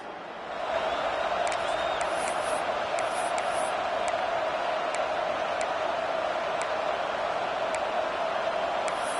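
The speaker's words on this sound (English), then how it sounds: "Decibels rising as the crowd gets behind this defense on 3rd down." A college football stadium crowd at a Michigan versus UCLA game roars steadily behind the defense on third down, a dense, loud wall of cheering that swells in after the first second and holds without a break.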